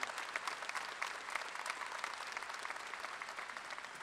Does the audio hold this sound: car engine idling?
no